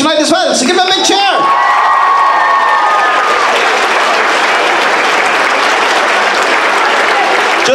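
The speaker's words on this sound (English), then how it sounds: "So give them a big cheer." A school audience at a transition year variety show in Enniscorthy bursts into loud, sustained applause and cheering for Swedish exchange students. It follows a brief moment of voices and swells into a dense, steady roar of clapping.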